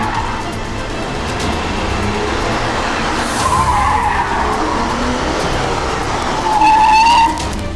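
A car speeds hard and skids, tires squealing in long rising screeches over a roaring engine, loud and close, with a final sharp squeal near the end and no talking.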